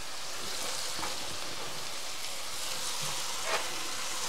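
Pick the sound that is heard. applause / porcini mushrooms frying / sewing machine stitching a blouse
porcini mushrooms frying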